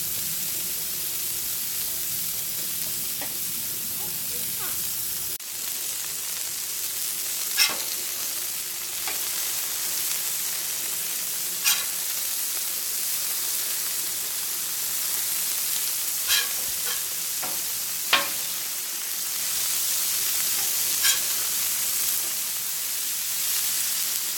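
Meat searing in a hot pan in a home kitchen, seasoned with pepper, giving a continuous loud sizzle and hiss with occasional sharp pops and spits, steady for the whole stretch with no talking.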